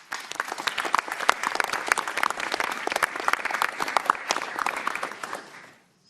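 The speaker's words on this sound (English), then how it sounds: "So could I ask if we could have a round of applause?" An audience at a college board of trustees meeting gives a round of applause, dense, irregular clapping that holds steady for about five seconds and then quickly dies away to silence.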